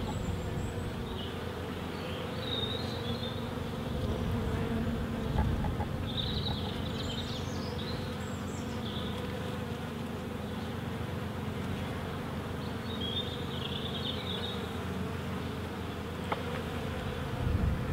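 Honey bees hum around an open hive during a beekeeping inspection in the UK, a steady low drone with occasional closer individual buzzes passing by, no talking.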